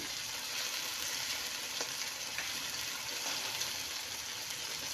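Sardines frying in a pan for a home-cooked dish of bottle gourd with sardines and alagaw leaves, giving a steady, dense sizzle with faint stirring ticks, close and continuous, with no talking.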